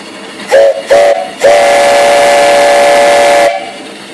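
A 2.5-inch, three-chime steam whistle on a steam donkey logging boiler gives two short toots and then one long, loud chord blast lasting about two seconds, with steam hiss underneath that trails off as it stops.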